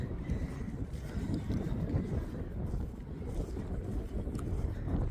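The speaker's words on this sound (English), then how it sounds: "Definitely a windy day today." Strong wind buffeting the microphone high on a mountain overlooking a city, a steady low roar with gusty rumbles throughout, no talking.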